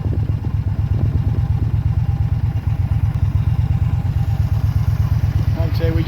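A motorcycle engine idles with a loud, close, evenly pulsing low rumble that continues without a break throughout.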